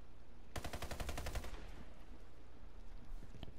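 A Warface submachine gun fires one rapid burst of about a second, loud and close, before the sound drops to a quiet background with a few faint distant shots.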